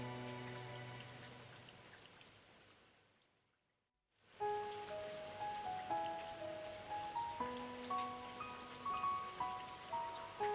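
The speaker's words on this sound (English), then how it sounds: "listened to the rain, the sea, and the endless, story-filled wind" Steady rain falling during a storm by the sea, with wind, a dense, soft patter that drops away to near silence for a moment and then returns, overlaid with calm melodic tones.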